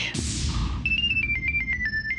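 A phone ringtone chimes in a quick repeating electronic melody, loud and close, following a brief burst of noise at the start.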